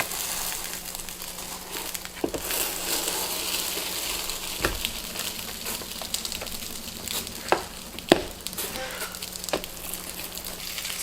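Cheese pockets cooking in a pan over very low heat, a steady soft frying sizzle with faint crackles and a few sharp clicks of the pieces being turned, close and continuous without talk.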